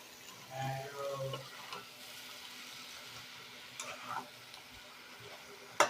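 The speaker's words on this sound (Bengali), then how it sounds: "এবার ভালো করে কষিয়ে নেব সবগুলোকে" Malabar spinach with bori lentil dumplings, egg and spices stir-fried in a pan, a faint low sizzle with scattered scraping and clinking from stirring, quiet and uneven throughout.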